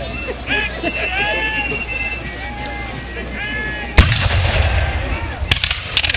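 A cannon from the Redan battery fires at a battle re-enactment: a sharp, loud blast followed by a few more distant bangs, with a crowd talking nearby and distant chatter before the shot.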